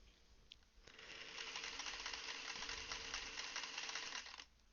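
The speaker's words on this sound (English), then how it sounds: "I'm actually going to sew it from this side because the rectangles seem to have been just slightly longer." Sewing machine stitching quarter-inch seams in quilt fabric: a fast, even mechanical whir with rapid needle clatter that starts up, runs steadily for several seconds and then stops, quiet and close with no talk.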